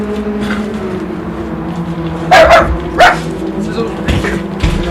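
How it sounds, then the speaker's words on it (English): A dog barks a few sharp times, in two close pairs, over a steady low hum and faint background noise indoors, with the barks standing out loudly against the quieter bed. "Shut up, dog, you're an idiot."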